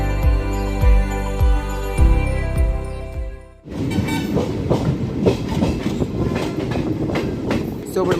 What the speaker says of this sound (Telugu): సింహాచలం నుండి అయితే మన ట్రైన్ అయితే బయలుదేరిపోయింది.